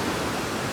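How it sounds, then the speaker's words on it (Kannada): Steady rain pours down in Goa among coconut trees near the sea, making a dense, even hiss at moderate loudness with no voices. "ಮಳೆಗಳು ಸದ್ದು"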